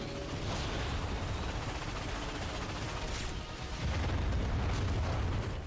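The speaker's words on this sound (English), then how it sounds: "Listen out. Starwatch ion cannon." A Starwatch ion cannon in the Ratchet and Clank game on PS4 fires repeatedly in a dense, sustained roar of blasts. It gets louder and heavier toward the end, with no voices.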